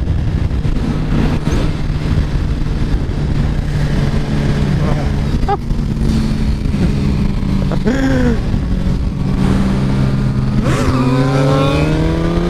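A 2017 Suzuki GSXR1000 sportbike pulls hard in fourth gear for a wheelie, its engine note climbing and sweeping in pitch under steady wind rush, with voices talking over it.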